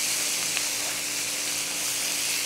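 Fruit sizzling in a hot pan, a steady close-up frying hiss that holds evenly throughout without pause.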